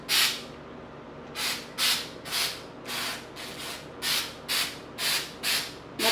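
A spray can sprays onto a window in a series of about nine short, even hissing bursts, fairly faint and rhythmic, separated by brief quiet gaps.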